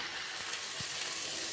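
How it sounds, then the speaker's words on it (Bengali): Rice stirred in a hot pan with vegetables and chicken, giving a soft steady sizzle with a couple of low scrapes from the spatula, fairly quiet and close. "চালটা দিয়ে এটাকে খুব ভালো করে আবার নাড়াচাড়া করতে হবে।"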